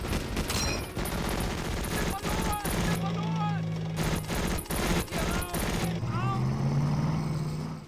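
Bursts of gunfire from an engineer unit in a Battle Academy war game, rapid repeated shots in clustered volleys with vehicle engine drone beneath and someone talking in between.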